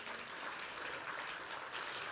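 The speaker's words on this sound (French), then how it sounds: "je crois qu'on peut les applaudir" Warm, continuous clapping from a conference audience applauding two performers after a reading, fairly soft and distant, holding a steady dense texture throughout.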